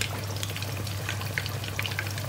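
Thai minced pork cakes deep-frying in hot oil, a steady close crackle and sizzle with scattered bright pops and a low hum underneath, no voices.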